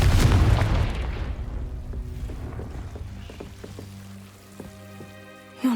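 A single Confringo fire spell explosion in Hogwarts Legacy bursts loudly at the start, then its rumble decays over several seconds into quiet game ambience, ending on a short sharp sound.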